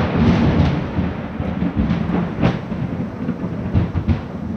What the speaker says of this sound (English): There's our thunder.